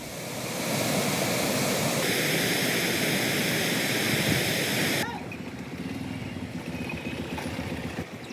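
River water released from a dam on the Thenpennai river at Hosur rushes in a loud, steady wash that drops noticeably partway through and then continues at a lower level.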